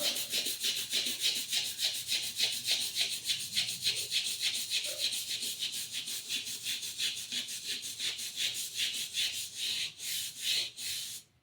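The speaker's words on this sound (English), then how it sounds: "And we'll just give her a little scrub." A brush scrubs rust off a vehicle wheel near the tire in steady, rapid back-and-forth strokes, loud and close, with no talk, the rhythm slowing and breaking up toward the end.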